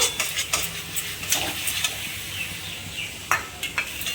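Ground spices with salt and chili powder being stirred and fried in oil in a pan, a close sizzle broken by repeated scraping strokes of a spoon against the pan, with no talking.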